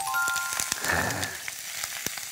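Pork belly and onion frying in a hot pan for an octopus, pork belly and shrimp stir-fry, a soft crackling sizzle close by with a few sharp taps of utensils and no talking.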